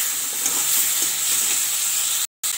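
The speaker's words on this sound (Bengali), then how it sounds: "এবার আমি ভেজে রাখা ডিম আর বেগুন দিয়ে দিলাম, একটুখানি কষিয়ে নেব।" Fried egg and eggplant sauté in a pan with a dense, loud, steady sizzle and hiss close by, cut off by a brief moment of silence near the end.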